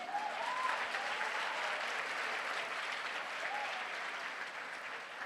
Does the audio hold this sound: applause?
yes